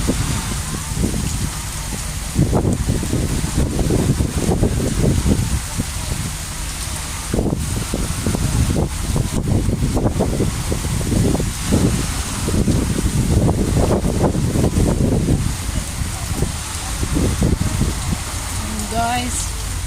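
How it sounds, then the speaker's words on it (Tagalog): Strong wind blows at a rough, wavy beach, roaring steadily into the microphone with loud buffeting gusts and rumbling bursts across the whole stretch. "ang lakas ng hangin dito ngayon"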